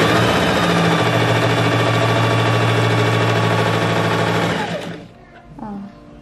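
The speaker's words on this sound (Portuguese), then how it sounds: "vou passar uma costura aqui na beiradinha, assim, deixando meio centímetro" Home sewing machine run at its maximum stitch setting along the edge of thin dress fabric, gathering a ruffle as it sews; a loud, steady whirring stitch for about five seconds, then stopping, with faint handling noises after.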